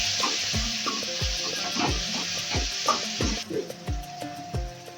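Tomatoes with a little salt are sautéed and stirred in a pan, with a soft steady sizzle under regular scraping strokes of a spoon, several strokes in an even rhythm, close by.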